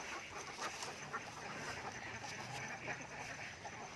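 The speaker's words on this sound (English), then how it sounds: "Look at the duck." Ducks quack on a farm, faint scattered calls rising above a low background murmur, distant and intermittent over a few seconds.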